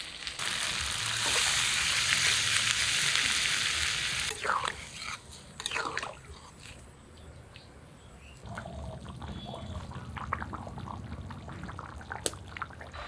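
Water poured into a pan of mutton kosha cooked down with ground spice paste, setting off a loud, dense sizzle for about four seconds before it settles into a quieter simmer, with stirring and utensil scrapes after it.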